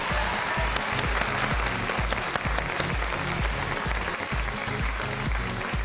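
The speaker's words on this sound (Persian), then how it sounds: "تشویقش کنی." A studio audience on a Persian television variety show claps steadily and loudly throughout, with a pulsing musical beat running underneath the dense applause.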